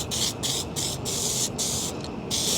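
Filter oil spraying from an aerosol nozzle onto a foam air filter, a close, loud hissing in repeated bursts separated by short pauses, with no talking.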